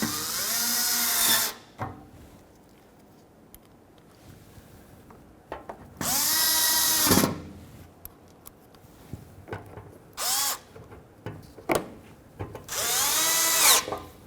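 A power drill drives Phillips head screws into the shield while an alternator is replaced on a 2005-2021 Nissan Frontier 4.0L V6, with four loud separate whirring bursts between pauses, close up.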